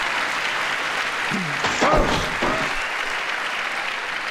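A large crowd at a State of the Union address claps continuously in a dense, steady wash of applause, with a few faint cheers or voices rising within it.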